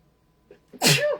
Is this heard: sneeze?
yes